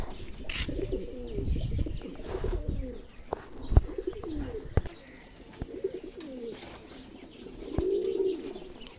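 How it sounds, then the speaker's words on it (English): King pigeons coo in low, rolling phrases, several birds close by. Soft wing flaps and light knocks are mixed in at moderate volume. "these beautiful king birds"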